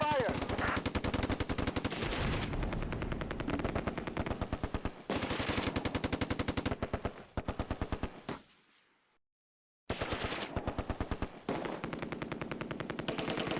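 Sustained machine gun fire in the WWII strategy game Close Combat: A Bridge Too Far, Polish paratroopers on farmland during Operation Market Garden. Rapid loud bursts run almost continuously, with one brief silent gap before the firing resumes.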